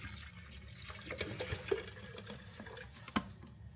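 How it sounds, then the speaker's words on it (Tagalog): Water runs from a tap in a hotel room, a steady gushing splash with a few louder splashes, fairly quiet and heard alone. "Buksan tayo yung tubig."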